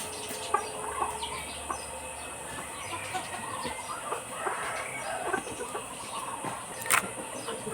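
Chickens with colds, Dekalb birds among them, cluck and call intermittently in a farm pen, fairly faint against a steady background hum.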